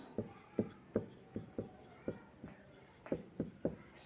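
Pen on paper during a maths lesson, about ten short, evenly spaced scratchy strokes, close and moderately quiet, with no talk.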